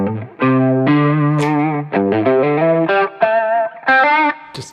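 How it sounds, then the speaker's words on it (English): An electric guitar through a TC Electronic Corona Chorus pedal with a flange-wah setting plays sustained, shimmering notes with a swirling chorus and sweeping wah tone, loud and up close. "Some of them are very chorusy, some of them are much more obvious with the wah."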